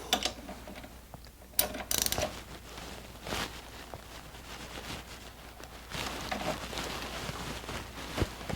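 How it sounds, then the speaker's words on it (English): A wrench loosens the 14mm slide pin bolt on the rear brake caliper of a 2007 Suzuki GSX-R 1000, with close ratcheting clicks, metallic knocks and tool handling at moderate volume, no talking. "first thing I need to do is to loosen the 14mm slide pin bolt"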